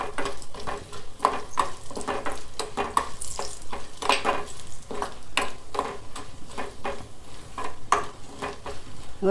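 Dry red chillies fry in tempering oil with cumin, curry leaves and garlic, a steady sizzle broken by repeated rhythmic spatula scrapes and knocks against the pan.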